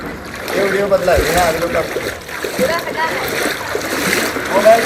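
Floodwater in the streets and houses of Solapur splashes and churns continuously at close range, with loud, choppy bursts under a person talking throughout.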